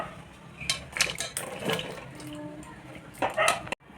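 Water is poured into a wok to boil jackfruit, a short splashing pour with clinks of metal cookware, moderately close, ending abruptly.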